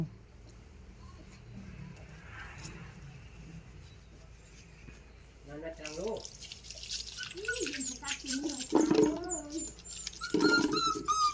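Water drips and splashes faintly while a child's face is washed, with voices and a child's high-pitched cries growing louder over the top.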